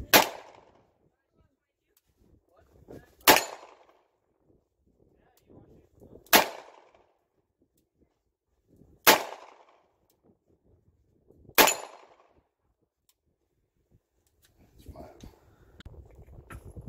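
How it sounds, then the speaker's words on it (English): Five loud, sharp revolver shots from a Smith & Wesson Combat Model 69 firing lead cowboy loads ring out alone, spaced about three seconds apart, each with a brief ringing tail; faint rustling follows at the end. "that's the Smith & Wesson Combat Model 69. These lead cowboy loads"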